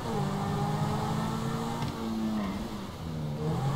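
A sports car engine in Grand Theft Auto V revs and hums steadily, a continuous loud purring drone with shifting pitch as the car accelerates along the road.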